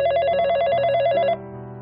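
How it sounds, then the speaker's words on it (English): A telephone rings with a bright, trilling electronic bell tone, one sustained ring burst close and clear that cuts off abruptly, leaving a faint lower hum. "She called back and listened to the phone ring loudly, time after time."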